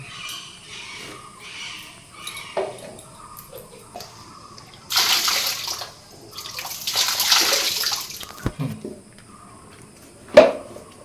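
Water splashes and trickles in a rock pool inside a stone cave, with bursts of louder sloshing and a few sharp knocks against the quiet, echoing background.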